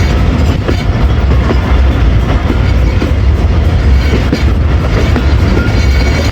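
The Karachi Express runs on the loop line at Lahore Cantt, heard from on board. A loud, constant rumble of wheels and carriages rolls steadily on, with a faint rhythmic rattle over the tracks.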